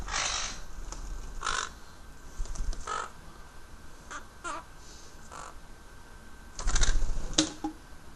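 A pet bird calls loudly in short, harsh caw-like bursts spread across several seconds, the loudest cluster near the end, with soft household background between calls.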